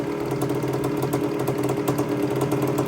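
A rebuilt Yamaha Tri-Z three-wheeler engine idles steadily up close, a continuous mid-pitched two-stroke burble with light mechanical clatter and no talking.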